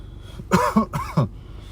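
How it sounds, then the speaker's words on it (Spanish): A short run of about four harsh coughs, close and fairly loud, interrupts a spoken religious lesson, with quiet room tone in between. "Cada vez que hago una lección, de repente me aparece esta fucking tos"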